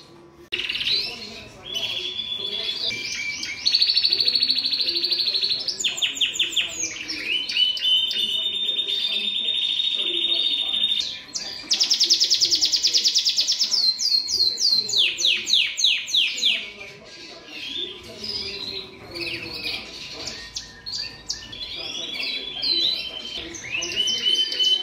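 Cock birds in an indoor birdroom sing continuously, with bright overlapping trills and chirps close by and rising and falling bursts throughout.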